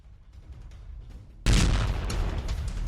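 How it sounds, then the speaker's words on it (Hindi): A Ukrainian tank loaded with ammunition explodes after an anti-tank gun hit, a sudden loud blast bursting out of low background rumble and leaving a sustained roaring, crackling wash of fire and debris. "बारूद से भरे टैंक में भीषण धमाका किया।"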